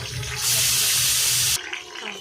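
Five or six green chillies hit hot oil while cooking Pune-style chicken daalcha, giving a loud, close hissing sizzle that bursts up and holds for about a second before dropping away abruptly.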